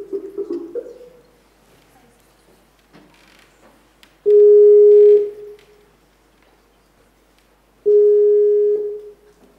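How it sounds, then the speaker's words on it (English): Two long, loud, steady telephone ringback tones on an outgoing call to Russia, each lasting about a second, separated by quiet line hiss, with faint voices at the start. "I'm going to try and make a phone call to Russia here"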